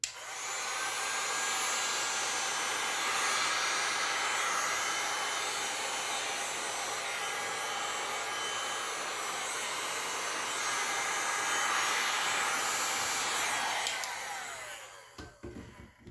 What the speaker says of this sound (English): you can push it in with a heat gun